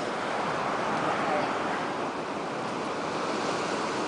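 Steady surf and wind fill a beach at a wedding ceremony, a continuous wash of breaking waves with wind rumble on the microphone and no clear voice over it.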